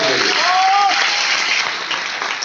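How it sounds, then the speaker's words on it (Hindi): An audience at a business seminar applauds loudly and continuously, a dense wash of clapping with a voice briefly heard over it. "जरूर चाहूंगा एक जोरदार ताली हो जाए।"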